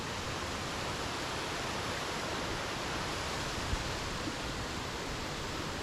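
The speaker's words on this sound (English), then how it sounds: "I have found the waterfall." A waterfall in the Australian landscape roars as a steady, dense wash of broadband noise, constant and unbroken, with no voices or other distinct sounds.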